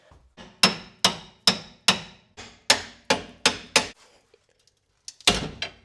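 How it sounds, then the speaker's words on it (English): About ten sharp, evenly spaced hammer blows strike a truck, loud and close, followed by a short pause and one more clattering hit. "Get the hammer."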